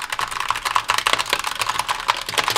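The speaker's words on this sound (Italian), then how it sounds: "farvi sentire il rumore di questi switch adottati dalla Razer sulla Huntsman Tournament Edition" Rapid, steady typing on a Razer Huntsman Tournament Edition keyboard with its optical switches, a close, dense run of key clicks with no talk.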